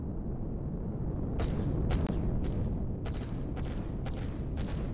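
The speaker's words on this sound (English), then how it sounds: "Get him, cannons." Cannon fire in the space survival game Empyrion Galactic Survival, during a Zirax attack: a string of sharp, loud blasts in uneven bursts over a steady low rumble, with no talk.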